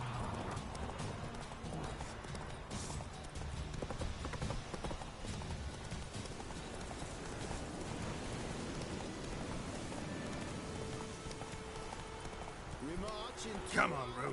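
In The Witcher 3, the horse Roach gallops with rapid, steady hoofbeats through the whole stretch, with rain-like rustle behind them and a voice speaking over the top.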